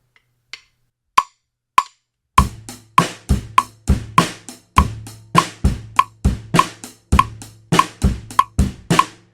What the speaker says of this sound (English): Let's move on to the main beat of the verse.